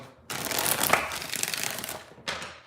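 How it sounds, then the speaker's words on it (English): A rapid riffle of playing cards being shuffled, a dense papery rush lasting about two seconds, then a short second burst close by. "I shuffle out of habit"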